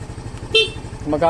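A short, loud beep of a motorcycle horn sounds once at close range, with an engine idling beneath and a bit of talking.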